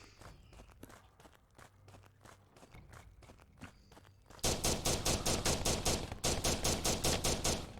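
Rapid automatic gunfire at enemies in Shadow of Loot Box, opening with quieter footsteps and scattered shots before a loud, sustained stream of evenly spaced shots takes over.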